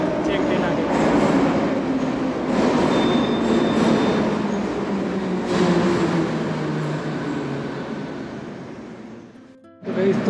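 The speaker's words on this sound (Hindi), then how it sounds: "ये वाली ट्रेन ही जाएगी, चेक ट्रेन आ गई" A metro train pulls into a station in Tashkent, a loud close rumble of wheels and carriages with faint squeals, gradually easing off near the end, with voices around it.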